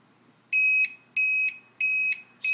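An APC BR900GI UPS alarm beeps in a steady rhythm, four loud high-pitched tones about half a second each, with short gaps between.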